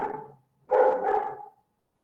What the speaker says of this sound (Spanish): ¿Se escucha el ladrido del perro?